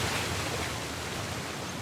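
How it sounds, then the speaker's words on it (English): Steady, dense roar of a waterfall in the video game Uncharted: The Lost Legacy, a continuous broadband wash of falling water holding an even level throughout, with no voices over it. "Another waterfall."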